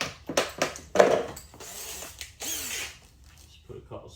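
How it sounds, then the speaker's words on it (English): A screw gun drives screws while a Star Wars ride-on car is being built, giving short bursts of whirring motor with clicks and ratcheting in between, close by and mixed with a voice speaking. "Get my screw gun."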